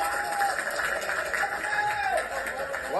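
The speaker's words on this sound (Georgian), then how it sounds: "ამხნევებენ გულშემატკივრები მოთამაშეებს" Football supporters cheer and clap for the players just before a final, a steady crowd roar with whistles and scattered clapping, with a commentator talking over it.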